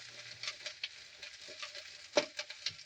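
Pumpkin curry ingredients frying with chili powder in a pan while being stirred: a faint, low sizzle broken by soft scraping strokes, with one sharper clack near the end.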